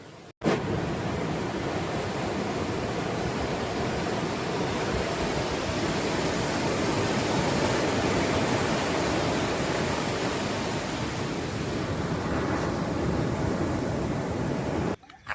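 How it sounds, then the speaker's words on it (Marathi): Ocean waves on the Mangalore coast make a steady, unbroken wash of surf noise, loud and even for the whole stretch, with no voices. "निस्ता लाटांचा आवाज"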